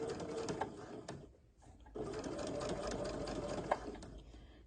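Sewing machine stitching scrub cap fabric, a close, steady mechanical whir with a short pause before the stitching resumes.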